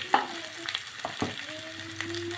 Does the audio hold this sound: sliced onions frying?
yes